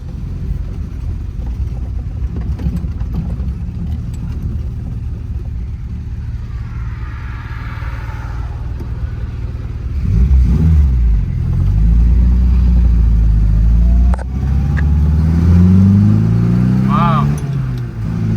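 A 1965 Triumph TR4A engine idling with a low rumble, then revving up loudly midway and holding higher, close by, with a brief spoken exclamation.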